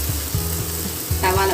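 Tomato rings frying in oil on a hot tawa, a steady close sizzle with faint stirring or placement noises and a brief voice near the end.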